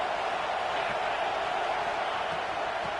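Football stadium crowd at a Georgia versus Clemson game, a dense, steady roar of many voices that fills the whole stretch without clear breaks.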